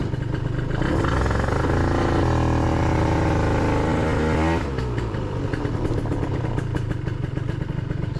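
A Gilera Runner 180cc scooter with a Malossi exhaust and 28mm carburetor revs loudly and raspily, the pitch climbing and holding, then dropping back to a crackly, popping idle.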